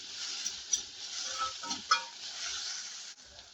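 Capsicum sautéing over a high flame in a cabbage manchurian pan, a soft steady sizzle with a few stirring scrapes and clicks, fairly quiet throughout.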